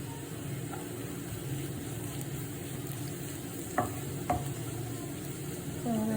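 Green chillies fry in a pan as a low, steady sizzle close by, broken by two or three faint clinks of a utensil partway through, with no talking.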